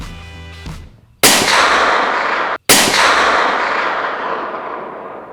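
Two loud .450 Bushmaster rifle shots fire outdoors at a long-range target, each a sharp crack followed by a long rolling echo that fades over a couple of seconds, after a brief mechanical clack.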